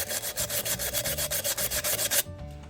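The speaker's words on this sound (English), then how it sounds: "Sanding this down like this and leaving just that little bit of silver right there" Rhythmic back-and-forth sanding of a tumbler by hand, a close, raspy scrubbing in quick, even strokes that stops abruptly near the end.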